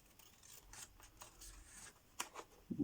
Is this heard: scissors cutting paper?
yes